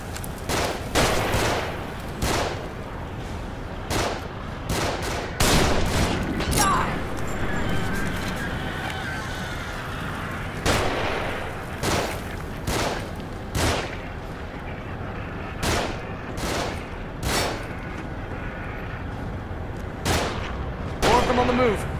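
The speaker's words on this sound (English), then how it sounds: "They're shooting from above." Enemy gunfire raining down from above in the survival horror game The Evil Within, repeated loud shots and bursts cracking out irregularly over a tense rumbling backdrop, with occasional crashes.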